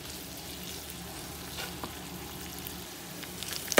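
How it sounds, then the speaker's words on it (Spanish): Corn kernels with a little salt frying in a pan for esquites, a continuous moderate sizzle with faint stirring noises and a slightly louder crackle near the end, with no talk. "Dejamos que se cocine por un tiempo para después agregarle los demás ingredientes."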